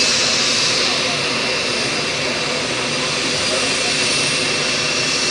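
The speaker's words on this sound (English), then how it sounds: "big mama noise of the C390 Millennium" A steady, loud Embraer C-390 Millennium jet engine roar at the Paris Air Show fills the whole stretch, a dense broadband rumble with a high whine on top, constant and close.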